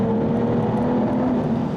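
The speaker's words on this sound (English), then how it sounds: "I'll squeeze the throttle again and try and get that V12." An Aston Martin DBS V12 drones and rises under throttle inside an underpass. The engine note stays loud, close and continuous, with no talking.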